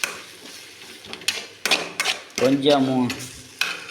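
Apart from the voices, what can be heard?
egg frying and being stirred in pan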